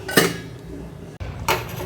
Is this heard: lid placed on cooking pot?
yes